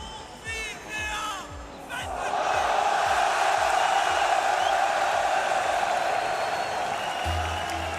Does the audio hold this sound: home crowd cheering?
yes